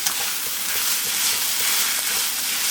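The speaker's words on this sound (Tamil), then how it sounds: "ஒன்றா அரைச்சி ஒரு பேஸ்ட் இதையும் போட்டு நல்லா இதை வதக்கிக்கலாம்" Ground spice paste of cinnamon, cloves and stone flower sautés in a hot pan for mushroom gravy, giving a steady, dense sizzle that hisses evenly throughout with no voices.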